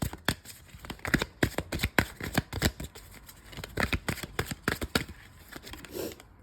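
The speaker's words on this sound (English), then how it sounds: "This deck's a little hard to shuffle, so let's get some cards in." A tarot deck being shuffled up close. It makes a steady run of crisp, papery riffles and flicks for several seconds, with short pauses between bursts and no talking.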